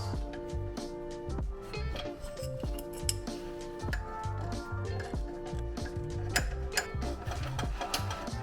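A ratchet tightens the catalytic converter bolts on an NA8 Mazda Miata. It gives off a fast, close run of metallic clicks in repeated bursts over a low mechanical background, with no talking.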